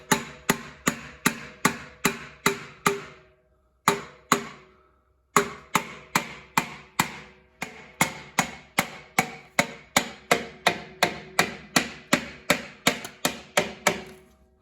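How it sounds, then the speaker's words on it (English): Steady hammer blows drive a piston into a 1973 Kubota L210 tractor engine, sharp metallic strikes repeating in a regular rhythm with two brief pauses, close and loud. "Go ahead and pound this in."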